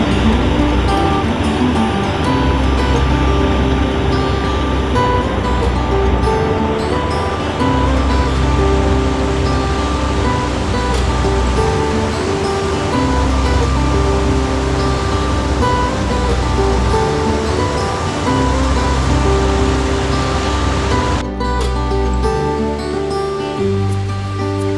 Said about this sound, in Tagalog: pool na may falls, meron pang pool dito.